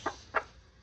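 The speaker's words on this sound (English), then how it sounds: "So, once you've caught your chicken," A caught chicken on a farm gives three short, soft clucks spaced evenly apart, close to the microphone with nothing else over them.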